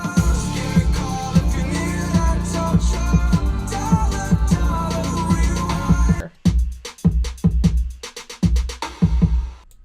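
Drums in a song remix shift pattern. A dense full mix with steady beats gives way after about six seconds to sparse, punchy drum hits with gaps between them, loud and close.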